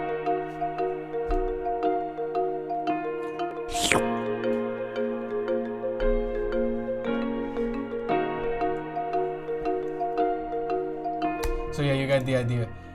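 Keys in an FL Studio hard beat, low end cut with a simple parametric EQ, playing sustained chords with a steady layered melody over a low thumping pulse, with a rising sweep and a fill near the end.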